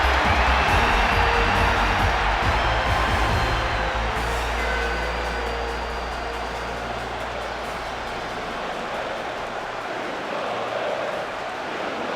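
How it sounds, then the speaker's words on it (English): Crowd in a stadium at a Manchester United versus Real Madrid match in the PS2 football game Winning Eleven 2009, roaring loudly and steadily with a deep rumble that eases slightly after a few seconds, no talk over it. "just listen to the crowd"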